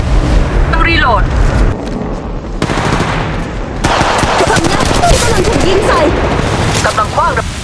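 Rapid automatic gunfire bursts and shots in the mobile battle royale game Apex Legends Mobile, loud and close, overlapping with game sound effects and a voice speaking over the fighting.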